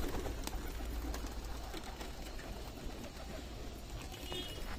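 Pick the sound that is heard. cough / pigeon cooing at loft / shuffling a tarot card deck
pigeon cooing at loft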